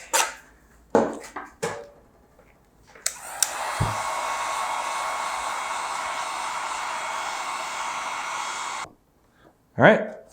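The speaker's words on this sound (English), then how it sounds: "I'm gonna go ahead and heat gun it." A heat gun blows a steady, loud airy roar for several seconds while warming a plastic signal piece from a custom Subaru Impreza GD angel-wing tail light, bracketed by short handling knocks and clatters.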